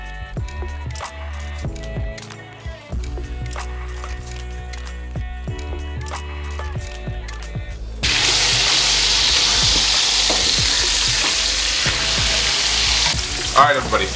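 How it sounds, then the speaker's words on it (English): Pounded-flat ribeye steaks, made as chicken fried steak, frying in oil: a background clatter with tonal hum at first, then a loud, dense, crackling sizzle that bursts in partway through and holds steady to the end. "steaks are in the oil"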